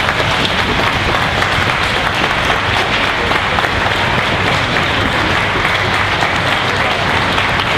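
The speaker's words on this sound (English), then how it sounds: "Please give our models a very warm round of applause." Loud, steady audience applause for models after a 1940s fashions talk at a war weekend event, continuous dense clapping filling the whole stretch without talk.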